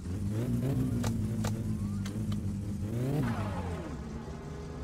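A Satsuma car in the game My Summer Car revs its engine, a close, steady mid-pitched drone that rises and falls, with faint clicks and a swell near the end, no talk.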